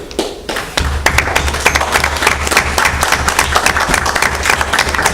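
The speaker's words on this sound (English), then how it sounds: "you four in the front row are clapping" An audience at a school board meeting claps, starting with a few scattered taps and swelling into steady, fairly close applause with a low thumping undertone and no speech.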